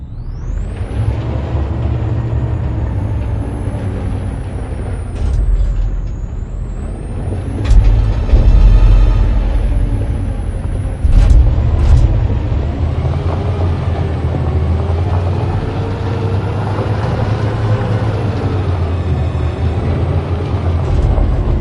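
A heavy truck engine in the video game Detroit: Become Human rumbles steadily, with sharp hissing air-brake releases and high whines over the drone, loud and close, no talking.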